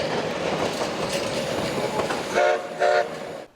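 A heritage steam train rolls along the rails through South Dakota's Black Hills with a continuous rumble, followed by two short, loud horn blasts near the end.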